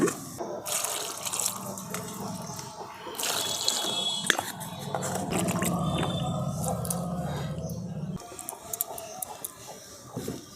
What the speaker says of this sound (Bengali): এরপর পটলগুলোকে ভালো করে ধুয়ে নিচ্ছি